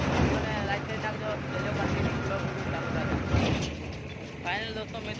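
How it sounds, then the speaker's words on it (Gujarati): Farm tractor engine running in a millet field, a steady, loud, close rumble throughout with no break. A voice speaks over it. "આપણા પપ્પા છે ટ્રેક્ટર ચલાવે છે, તમે જોઈ શકો"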